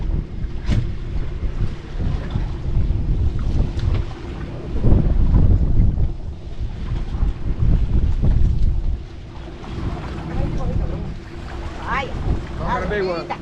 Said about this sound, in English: it's getting windier, choppier, and the clouds are gathering up